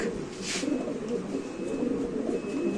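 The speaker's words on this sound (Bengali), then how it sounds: "এই যে নরের ডাক" A male Mundian pigeon coos steadily at close range in a loft, a low throaty murmur running under faint background noise, with a brief brighter sound near the start.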